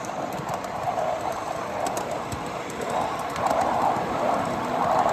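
Miniature ridable railway train at Train Mountain running steadily, a continuous close rumble and rattle of small wheels on track with faint birds in the background.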